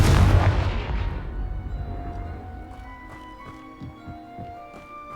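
Confringo blasting spell explosion in the Hogwarts Legacy video game: one loud, booming blast at the start that decays into a long rumbling tail, followed by faint clattering debris and game ambience.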